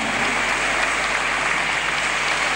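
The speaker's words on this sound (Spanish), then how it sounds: "recibimos con un fuerte aplauso al Coro Polifónico Santa Cecilia" A concert audience gives a polyphonic choir a warm welcome, steady dense clapping at constant loudness for the whole stretch with no voices on top.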